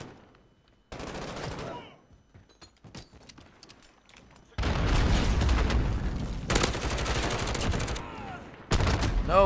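Gunfire in the video game Modern Warfare, scattered shots then long loud bursts of rapid fire and booms, close and dense, with occasional voices underneath.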